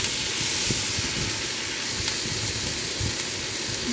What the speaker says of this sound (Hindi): एंड फिर मैंने इसे फ्राई किया।